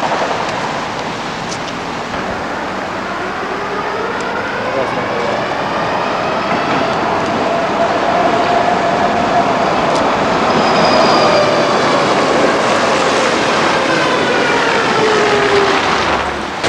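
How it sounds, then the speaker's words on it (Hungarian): A BKV UV tram on Budapest line 44 rolls past with a continuous rumble of wheels on rails and faint squealing tones, loud and close throughout. "Egyenesen menő forgalmi villamos."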